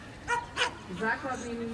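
A rescue dog at an obedience demonstration gives a few short barks and yips, fairly close, with a whining tail at the end.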